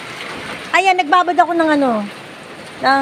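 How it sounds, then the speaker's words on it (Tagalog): Heavy rain pours with a steady, close hiss that runs underneath a person talking loudly over it. "Ang lakas ng ulan na to."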